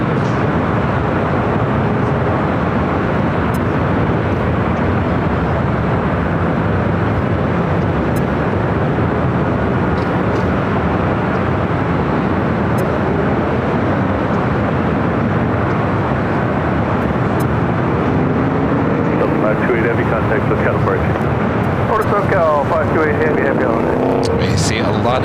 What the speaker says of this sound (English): The Delta 767 is a flight coming in from JFK